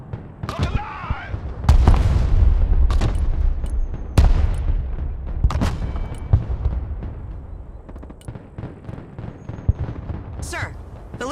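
Artillery fire in the Broken Arrow video game, several heavy booming blasts and sharp shots scattered across the stretch, loud and close, with radio-style voices talking over the bombardment.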